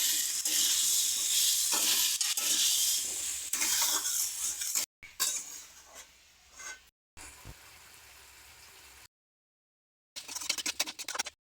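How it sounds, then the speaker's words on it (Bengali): Pumpkin chhakka sautéing in a pan gives a loud, steady sizzle with scraping stirs, broken by short pauses and a final sputtering burst. "এবার আমি কিছুক্ষণ কষাবো।"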